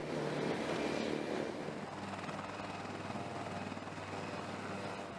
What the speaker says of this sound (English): This twin-engine, medium-sized utility helicopter was developed under the United States Marine Corps H-1 upgrade program.